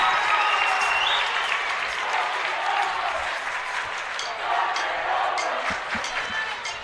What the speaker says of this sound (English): And that'll get the crowd going here at Lake Central